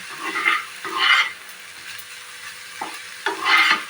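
Grated vegetables with curry leaves frying in a pan for paneer bhujiya, stirred in several rhythmic scraping bursts over a soft, steady sizzle, close and with no talk.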